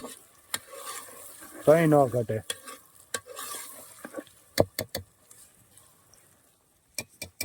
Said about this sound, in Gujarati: મસ્ત વઘાર મારી દીધો